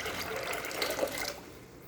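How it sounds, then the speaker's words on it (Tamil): Water is scooped from a fish tank, a close, steady splashing and pouring that fades slightly near the end, with no talking. "கைஸ் ஃபஸ்ட்டு வந்து இதிலேருந்து கொஞ்சம் நான் வந்து வாட்டர் மட்டும் எடுத்துக்கிடுவேன்"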